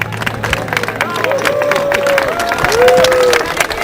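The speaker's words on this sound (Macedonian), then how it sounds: "Да му пожелиме со аплаузи токму тоа" An audience at a folk festival in Dolneni in 2008 applauds the Kopachkata dance performance, with steady scattered clapping beneath crowd murmur, and a voice carries over the applause.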